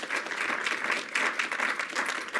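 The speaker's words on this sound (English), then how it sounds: "Don't clap." An audience at a Heritage event applauds as Rep. Jim Jordan is welcomed to the stage, a dense, steady wash of many hands clapping at moderate level throughout.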